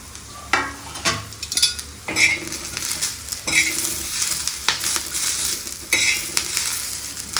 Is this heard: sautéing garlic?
yes